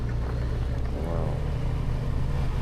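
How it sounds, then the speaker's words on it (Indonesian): A Dirgahayu bus passes on a road near the south coast of Tasikmalaya, a steady low engine rumble with a brief whooshing swell midway, heard close and fairly loud without talk. "Nah baru juga disebutin lewat tuh bus Dirgahayu, baru ketemu yang warna biru."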